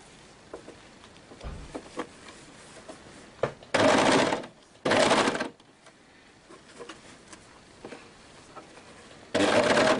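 An overlocker sews rib onto hoodie fabric in three loud, steady whirring bursts, the first two close together and a third after a pause, with soft handling clicks and rustles between runs.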